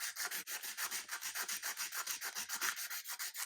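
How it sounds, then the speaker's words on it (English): A buffing wheel working surface rust off the face of a Vendo 81 Coke machine makes a close, steady rubbing whir that pulses in quick, even strokes, with no talking. "to start buffing this out. You can see it's got some rust in it"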